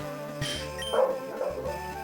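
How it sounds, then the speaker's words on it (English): A dog's howls leak faintly through a streamer's microphone and noise gate, giving a couple of brief, wavering yowls over a low electrical hum. "Oh my god, you can hear... I can see some of Cliff's howls coming through"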